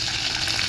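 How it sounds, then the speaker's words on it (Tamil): Cumin and mustard seeds sizzle and crackle in hot oil for tempering, a steady bright hiss heard up close with no talk. "தாளிப்புக்கான இது வந்து ஜீரகம், கடுகு இதையும் இதில் போட்டுடலாம்"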